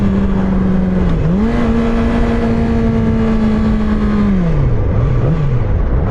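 Yamaha R6 sport motorcycle being ridden, its engine a loud steady drone that holds pitch, then eases off and drops as the rider slows, with constant wind rush throughout and no talking.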